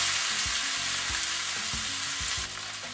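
Drained egg noodles dropped into a hot pan on high heat: a strong, continuous close sizzle with occasional low bumps from the pan, easing slightly near the end, with no voices.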